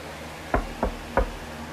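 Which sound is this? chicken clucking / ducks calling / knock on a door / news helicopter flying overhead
knock on a door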